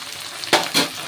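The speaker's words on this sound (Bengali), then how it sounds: "এটাকে আরও বেশ কিছুক্ষণ আমি ভেজে নেব।" Onion and tomato frying in a pan with salt added, giving a steady sizzle with two short, louder scraping stir strokes close by.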